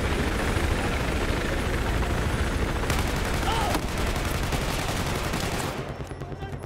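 Steady loud rotor and engine roar of a helicopter in the video game Battlefield 4 fills the scene, with scattered gunfire bursts mixed in, easing slightly near the end.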